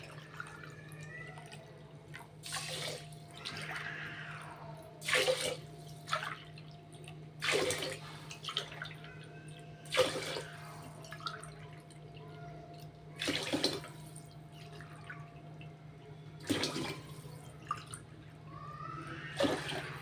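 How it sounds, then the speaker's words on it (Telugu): Glass after glass of water is poured onto rice in a cooking pot for Andhra mustard pulihora. Short splashing pours come in about eight separate bursts over a low steady hum, fairly faint. "ఇప్పుడు 8 గ్లాసులు వాటర్ పోసుకోవాలండి దీనికి"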